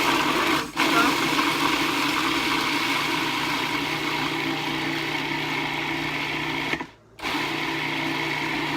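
A kitchen blender pulses food in a steady, loud whirring drone with two brief cut-offs, running near and close over a room with a voice faintly present.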